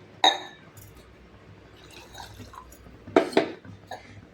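Water is poured into a simmering brinjal (eggplant) curry as it cooks, making two short splashing pours several seconds apart against a quiet kitchen background.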